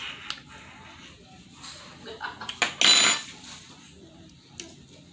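A metal spoon clatters against dishes and cutlery, a few sharp clinks followed by a brief louder rattling burst, then one more light tap.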